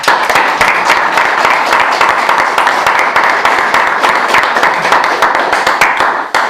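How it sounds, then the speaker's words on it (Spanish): A live audience at a Vermú Rojo talk event breaks into loud, sustained applause, dense overlapping claps filling the room steadily from start to finish with no pause. "Así que os pido un fuerte aplauso para Eduardo Garzón."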